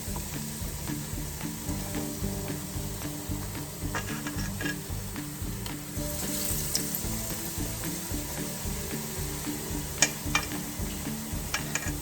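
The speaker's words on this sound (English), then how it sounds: "now we are going to dip our vadas, or these mashed potato patties, in this batter, and we'll deep fry them" Battered mashed-potato vadas deep-fry in hot oil with a steady close sizzle and bubbling throughout, marked by occasional small pops and ticks.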